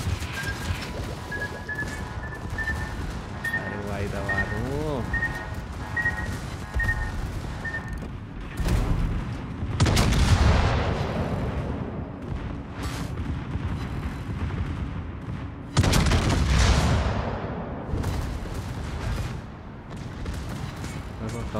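Secondary guns on a warship firing in a naval battle video game, the German cruiser Prinz Heinrich. Loud booming salvos at about 9, 10 and 16 seconds stand out over a steady engine rumble and other game sounds.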